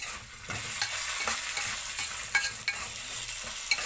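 Vermicelli toasting in oil in a pan, stirred before rice is added: a continuous close sizzle and fry with repeated scraping stirs and light clicks.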